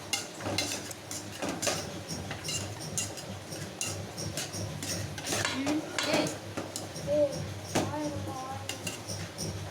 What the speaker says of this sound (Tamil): நல்லா கொஞ்ச நேரத்துக்கு கிண்டி விட்டுக்கோங்க